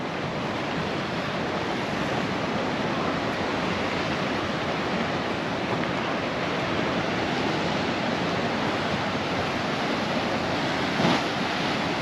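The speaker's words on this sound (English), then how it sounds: "Sea's looking a little bit more murky than it would normally be, but that's understandable considering the waves" Sea waves off Portals Nous, Mallorca, give a constant, dense wash of surf mixed with wind noise, steady and unbroken, with no voices.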